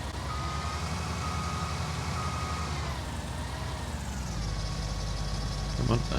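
Steady reversing beeps sound from a combine harvester in Farming Simulator 19, repeating over a continuous engine drone for the whole stretch.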